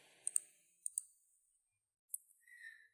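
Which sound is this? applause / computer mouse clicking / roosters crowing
computer mouse clicking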